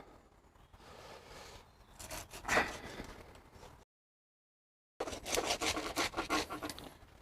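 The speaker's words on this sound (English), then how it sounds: "back to my blunt hacksaw." A blunt hacksaw grinds through pig bone while half a hog is butchered at home, giving close, rough rasping strokes that stop for about a second before resuming.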